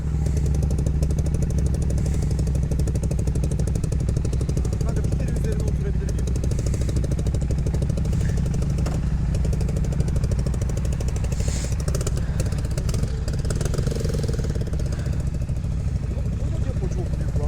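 A motorcycle fitted with an aftermarket Akrapovič exhaust idles loud and close with a deep, throaty exhaust rumble, steady throughout, with people talking faintly over it.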